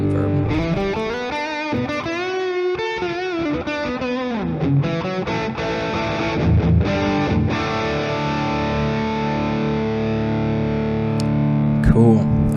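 Electric guitar played through a SmartPedal with an impulse response and reverb, giving a distorted, effected tone: a run of bent sustained notes and chords, then held ringing notes with a reverb tail.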